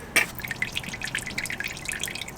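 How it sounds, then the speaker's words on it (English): Engine oil drains from a Mitsubishi Evo X 4B11 engine, heard as a faint steady trickle with soft dripping taps, close by and alone. "Now that the oil is draining"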